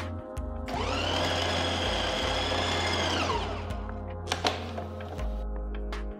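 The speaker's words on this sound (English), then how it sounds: "To the food processor, add the dates and grind them till they become nice and mushy." A food processor grinds dates with a loud whirring motor that spins up, runs steadily for a few seconds, then winds down amid knocks and clatter, close by with no speech.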